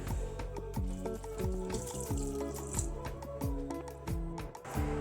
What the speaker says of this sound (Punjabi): ਹੁਣ ਆਪਾਂ ਇਹਦੇ ਵਿੱਚ ਪਾਵਾਂਗੇ ਇੱਕ ਕੱਪ ਪਾਣੀ ਪਾ ਦਵਾਂਗੇ